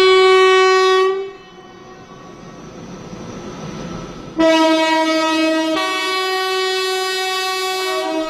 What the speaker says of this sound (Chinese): 清晨6点，烟雨朦胧的国防科大在火车的汽笛声中醒来